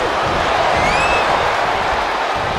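Arena crowd noise in the WWE 2K23 wrestling video game, a steady dense roar of cheering that carries evenly throughout.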